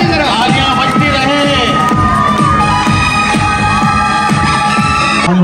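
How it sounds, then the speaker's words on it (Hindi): A crowd at a Pakistan Independence Day celebration claps rhythmically while cheering and shouting, children's voices among them. The sound is loud and close, a dense, continuous roar of voices throughout. "तालियां बजती रहे, तालियां बजती रहे।"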